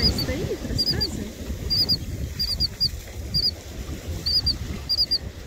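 Small birds chirping and calling outdoors in the USA, short high bright chirps in quick pairs and bursts repeating every second or so over a steady low rumbling background.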